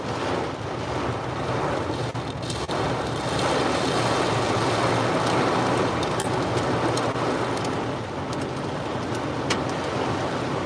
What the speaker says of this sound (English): It's just some rain and wind,